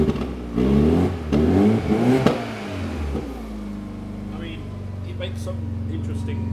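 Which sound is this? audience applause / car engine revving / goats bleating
car engine revving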